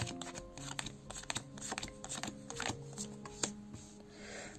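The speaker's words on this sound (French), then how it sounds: "on va essayer de tirer 2 petites cartes" Gypsy oracle cards slid and drawn from a deck, a soft run of papery flicks and taps close by, quiet and steady with no talking.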